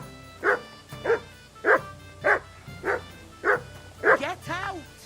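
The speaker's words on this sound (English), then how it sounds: "Sit and bark." A dog in Kingdom Come: Deliverance 2 barks in a steady series of about eight sharp, evenly spaced barks, close and loud, ending in a short whimpering yip.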